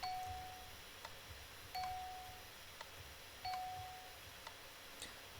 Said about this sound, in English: The next one is the bell, and that's made by putting a gold block under a note block.